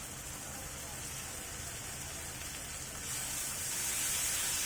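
Onion paste goes into onions frying for a prawn bhuna, producing a continuous hissing sizzle that grows louder and brighter partway through.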